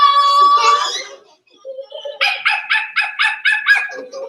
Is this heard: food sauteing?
no